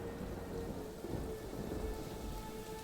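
Thunderstorm with heavy rain in the horror game Aquatic Grave, a steady wash of rainfall on surfaces with low rolling thunder rumbling underneath throughout, no voices.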